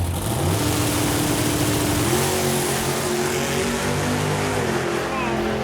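A 1970 Ford Mustang engine revs loudly and steadily during a drag-strip run, its pitch climbing in stages as it accelerates, with voices talking over the roar.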